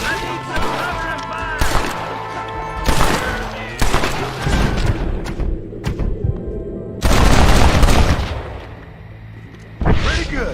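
Gunfire in the Red Dead Redemption video game: repeated loud bursts and volleys crack out at irregular intervals, with a long heavy barrage near the end, over a steady background of game ambience and a voice.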